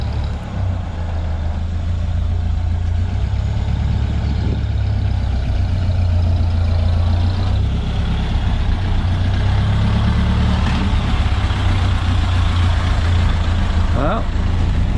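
A 1930 Model A Ford engine runs steadily through a ride, its low, constant rumble holding up the whole time, while people talk over it now and then.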